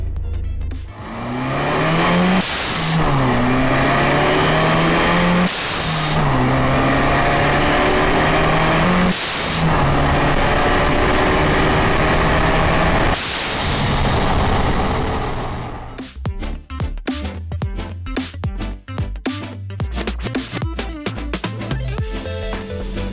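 A loud Peugeot RCZ engine with a blow-off valve revs up hard several times in rising surges, then drops into a rough, clattering idle.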